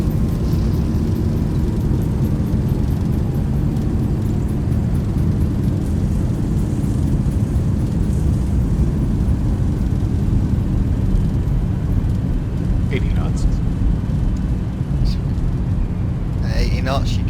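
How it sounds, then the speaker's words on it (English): Boeing 737-800 reverse thrust roar in a flight simulator: a steady, loud broadband engine rumble fills the whole stretch, continuous and unbroken, with faint clicks and brief bursts near the end. "And we'll activate the reverse thrust."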